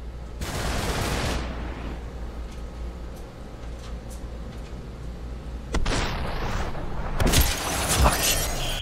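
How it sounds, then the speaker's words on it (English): Shotgun blasts in the video game Superhot, a few loud close booms with a harsh spread of noise, the last pair near the end, over steady game background. "Shotgun in my face."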